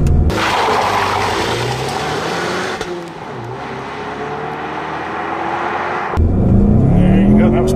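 A 2015 Ford Mustang EcoBoost makes a drag launch with wheel spin: a loud, close engine roar holds for nearly eight seconds, dips briefly, then surges harder near the end.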